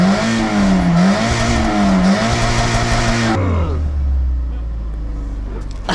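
A BMW E30 engine revs loudly, its pitch rising and falling in waves before dropping suddenly to a low, rough rumble; the car had recently been in a shunt and has a suspected air gasket fault.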